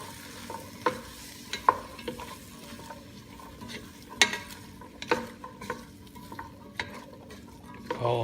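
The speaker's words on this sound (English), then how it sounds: "Give it a good stir." A spoon stirs clam chowder in a pot, scraping and clinking against the sides at an irregular pace over a steady low simmer, up close with no speech.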